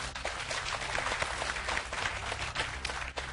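Audience clapping on an Azerbaijani school quiz show, a continuous even wash of many hands at moderate level with no break across the short stretch.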